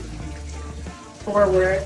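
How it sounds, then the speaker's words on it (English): A handheld shower head gives a steady hiss of running water during a French Bulldog's bath at home, with a brief voice rising over the spray near the end. "I take the shower head down, and I make sure that the shower head is only coming over there"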